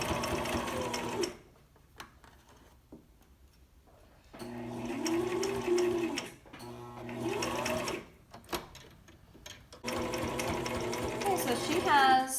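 Sewing machine stitching over the pleats of a fabric face mask, running in several distinct bursts separated by pauses, close and clear, with brief speech in between.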